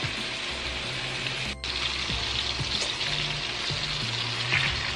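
Paprika chicken pieces fry in oil in a pan, giving a steady close crackling sizzle with small pops. A brief dip interrupts it, and soft handling sounds come and go.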